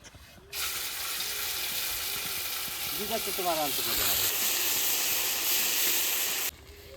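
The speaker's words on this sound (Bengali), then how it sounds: "এবার জিরে বাটাটা দিয়ে দেই" Ground cumin paste frying in a pan in a home kitchen, with a broad steady sizzle and hiss that starts abruptly, holds loud and even, then cuts off near the end, while a voice speaks briefly in the middle.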